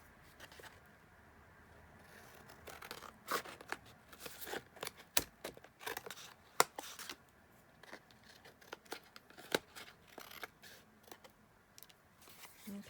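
Scissors snip through collage paper in a quiet room, with a scattered series of soft, close clicks and crisp cuts, plus occasional paper rustling.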